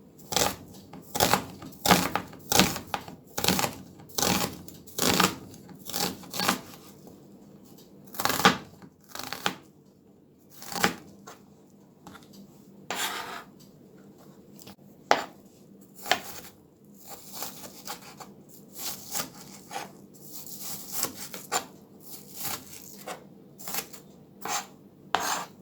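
A medium onion being chopped with a knife on a board, a series of sharp, close cutting taps in irregular bursts with short pauses between them.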